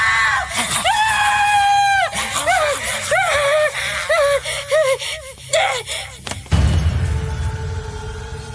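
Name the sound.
girl screaming in fright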